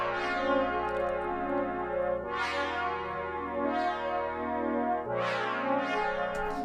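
A Roland Cloud PD Reso Pad synth preset swells in repeated slow, bright pad chords with resonant sweeping harmonics, each chord rising and decaying, played alone without talk.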